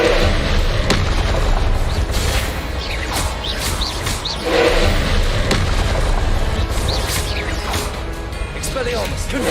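Booming fire-spell blasts and crashing impacts from Confringo spells in Hogwarts Legacy, repeated throughout amid continuous combat noise, with a voice shouting spell names over it.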